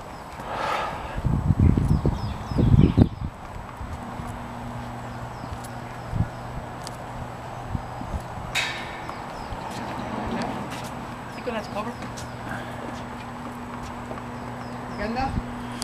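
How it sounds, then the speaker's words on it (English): A horse walks in at the Irish National Stud with clip-clopping hooves, a brief louder burst of steps early on and then softer scattered hoof sounds under steady background noise and low hum, with people talking nearby. "Just got the horse coming in"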